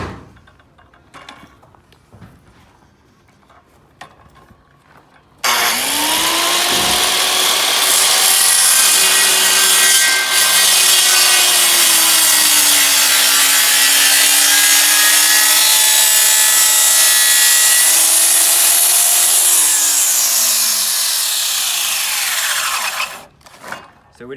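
A saw cuts into a wooden tenon up to a marked line, a steady, loud, continuous cutting drone that starts abruptly and runs for about eighteen seconds before stopping.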